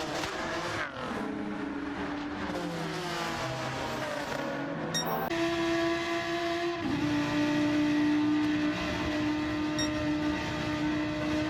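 Race cars on track, including three Audi R8s fighting for position: steady loud engine drone with rising and shifting gear tones, a sharp high-pitched whine midway, close and continuous with no talking.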